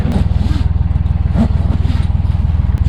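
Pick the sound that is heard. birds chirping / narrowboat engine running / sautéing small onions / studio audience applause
narrowboat engine running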